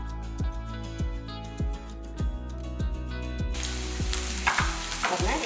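Onion, garlic, dried chillies and curry leaves fry in a pan for a vegetable thokku, a steady sizzle that grows louder partway through, heard under rhythmic background music.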